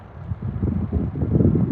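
Gusty wind rumbles and buffets a nearby microphone, a low, rough roar that swells and stays strong throughout.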